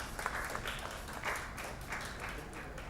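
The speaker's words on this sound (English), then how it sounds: "I would request you all for a round of applause for Dr. Tagareli." Quiet, distant applause from a workshop audience, a soft, steady patter of clapping with a few slightly louder bursts, heard faintly against a noisy background.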